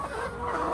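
Chickens cluck inside a farm shed, a brief, steady murmur of low clucking from several birds close by, with no voices.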